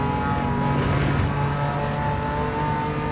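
A Porsche 911 Carrera RS (964) in Gran Turismo 7 drones at steady high revs, its engine note loud and continuous with faint shifts in pitch suggesting gear changes, heard alone without talk.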